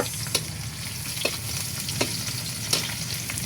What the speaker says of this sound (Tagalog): Una ko na pong inilagay yung bawang. Ginigisa ko na po. Isusunod ko na po ang sibuyas.